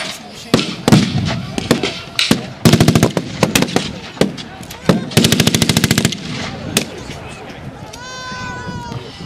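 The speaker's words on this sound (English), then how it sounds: "And the machine gun fire forces the Boers to seek cover." Machine gun fire at an outdoor Boer War battle reenactment, loud rapid bursts of automatic fire mixed with single rifle shots, the blasts coming in clusters with short gaps, ending in a whining, warbling tone.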